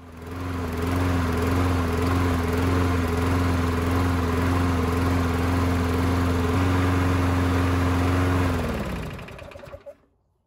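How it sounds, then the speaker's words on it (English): A walk-behind lawnmower engine runs at a steady loud drone right after starting, smoking blue from fogging oil left in the cylinder after winter storage, then cuts off and winds down near the end. "This mower is blowing out blue smoke when it starts"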